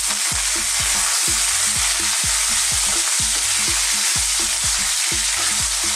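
Marinated beef for beef salpicao fries in oil with a loud, dense sizzle, and regular rhythmic scraping or tapping pulses underneath that run steadily throughout.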